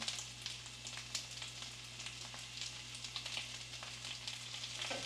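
Raw blanched hash browns sizzle in a hot HexClad hybrid pan, a continuous crackling fry with small pops and spits, close and fairly quiet under a faint steady hum.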